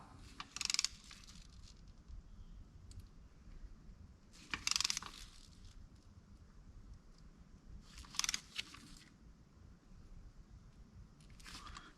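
A torque wrench tightens bolts to a low 17 foot-pounds on a Pontiac G8 during a coolant leak repair, giving four short, faint ratcheting bursts a few seconds apart against quiet room noise.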